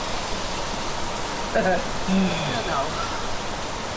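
Rain in the survival game The Planet Crafter, a steady broadband hiss that stays constant throughout, with a brief spoken word and faint game tones over it.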